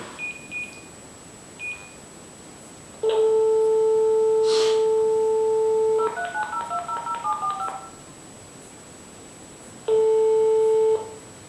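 A phone line sounds during a prank call to a French school: electronic beeps and dialing tones, then a long steady tone, a burst of quick tone sequences, and another long tone, clear and alone with no talk.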